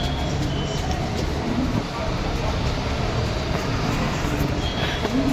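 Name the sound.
Delhi Metro station ambience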